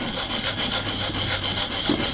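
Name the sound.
sharpening a custom knife with the Vipersharp system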